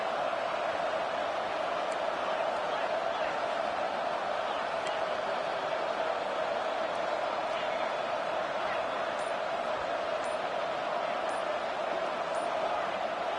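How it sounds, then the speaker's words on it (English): A stadium crowd roars in College Football 26 during an SMU vs LSU game, a dense, constant wall of noise with no letup, with game commentary at times riding over it. "And with this place rocking, the crowd forces a false start."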